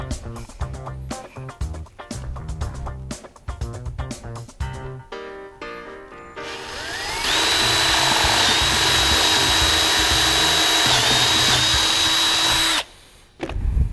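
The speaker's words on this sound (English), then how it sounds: "One more hole we have to drill" A power drill bores a hole through wood in a home workshop while building beer flight boards: a few short clicks and bursts, then a loud steady whine held for several seconds before cutting off.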